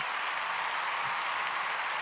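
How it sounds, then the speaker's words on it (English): Steady applause from a livestream audience, even and unbroken for the whole two seconds, with no voices rising above it. "Give it applause."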